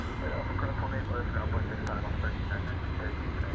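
An ABX cargo airplane at DFW Airport, Flight 102 bound for Cincinnati, gives off a steady, loud engine roar at night, with people talking over it.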